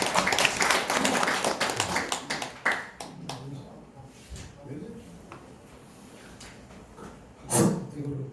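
Applause from an audience at a Korean agricultural seminar on microbe farming, welcoming an association chairman to the podium; a burst of clapping fades under someone speaking, with a brief swell near the end.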